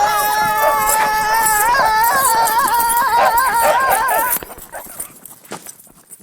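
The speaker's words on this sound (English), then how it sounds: "do we have to set the dogs on you?" Dogs bark and yip excitedly in a chase, a dense run of overlapping barks and whines that dominates for about four seconds before dropping away to quieter scattered sounds.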